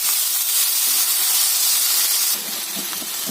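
Tomatoes frying in a pan with onions and ginger-garlic paste give off a loud, dense hiss of sizzling that runs continuously, easing slightly partway through.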